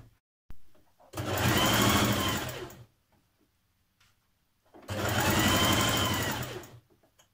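A sewing machine stitches a 1.5 cm seam allowance in light jumpsuit fabric, with two steady, close whirring runs of about two seconds each separated by a pause and a click.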